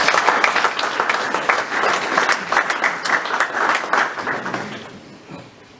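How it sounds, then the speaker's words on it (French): A church congregation bursts into dense, sustained applause during a sermon, loud and close at first, then thinning and fading out over the final second. "Acclamons pour la parole de Dieu."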